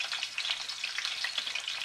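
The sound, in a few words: fatty end of beef roast sizzling in pan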